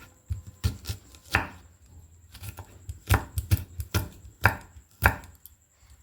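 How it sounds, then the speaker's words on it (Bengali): A knife finely chopping onion on a board, with sharp, close chopping strikes coming in uneven bursts and short pauses between them. "তো দেখুন খুব মিহি মিহি করে কিন্তু আমি পেঁয়াজটাকে কেটে নিচ্ছি।"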